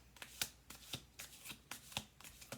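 A deck of tarot cards is shuffled in quick, rhythmic riffles, each crisp burst sounding close but fairly quiet, with no talking.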